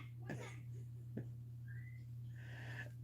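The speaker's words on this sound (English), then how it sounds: "Somebody taught him to whistle." A young child whistles two short, wavering tones in a quiet room, with a low electrical hum and a couple of sharp knocks in the background.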